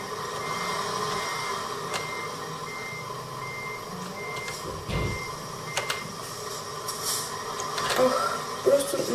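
Truck reversing in Euro Truck Simulator 2 game, a regular series of short electronic backup beeps over a low engine hum, moderately loud and steady, with brief quiet speech at times.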